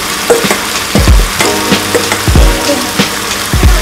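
Boiled mustard greens hit a hot wok and are stir-fried, with loud, steady sizzling and repeated scraping clanks of a spatula on metal, close and alone.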